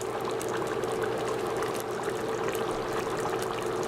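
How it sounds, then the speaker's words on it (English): A pot of chicken arroz caldo simmers with a steady, dense bubbling and liquid churn as mushrooms go in and get stirred, the sound continuous and fairly loud throughout with no talking. "I'm gonna add in our mushrooms. Give it a mix."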